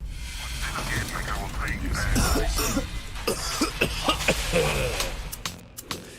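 Several coughs in a tuberculosis awareness advertisement, a series of short harsh bursts clustered in the middle and later part, mixed with throat clearing over a steady background.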